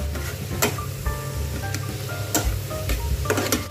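Chopped tomatoes fry with turmeric and chili powder in a pan, giving a steady close sizzle with scattered stirring clicks and utensil taps throughout, no talking.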